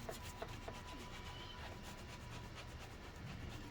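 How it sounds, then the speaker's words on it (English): A Honda S2000 tyre is scrubbed to lift off dirt, giving a faint, continuous brushing and rubbing texture with small bursts of quick strokes and no voices. "give the tyre a bit of a scrub"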